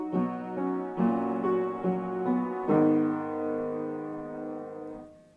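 Piano slowly plays the opening notes in B, a few sustained tones then a held chord fading out, solo and close.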